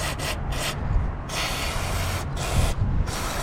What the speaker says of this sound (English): I'm just gonna spray it all over here.